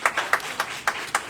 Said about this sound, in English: we don't congratulate and applaud enough